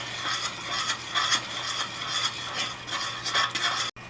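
Fudge mixture stirred in a pot, a steady scraping, clicking rhythm of spoon against the pan with regular strokes about every half second, fairly close and continuous until a brief cutoff near the end.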